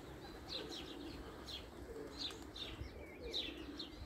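Soft, repeated racing pigeon coos over a steady low outdoor rumble, with a few faint chirps mixed in.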